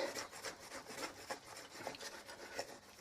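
An old vest used as a cloth polishes a part of a Hoover 750 upright vacuum cleaner, giving soft steady rubbing strokes in a quick rhythm, very faint and close, with no voices.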